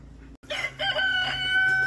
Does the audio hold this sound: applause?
no